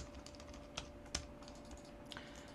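A few sparse taps on a computer keyboard enter shortcut keys, quiet and close, against a faint steady hum.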